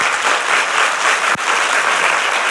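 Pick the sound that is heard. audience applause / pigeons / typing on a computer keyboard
audience applause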